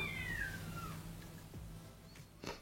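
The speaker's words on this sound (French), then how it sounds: "C'est un chat qu'on vient d'entendre là." A cat meows a couple of times at moderate distance, with a longer drawn-out cry early on and a shorter call near the end, over low background hum.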